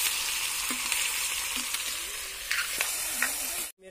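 Onion, chilli, garlic, ginger and tomato sizzle together in hot oil during outdoor cooking in a jungle, a steady bright hiss with occasional spatters and stirring clinks, close and alone.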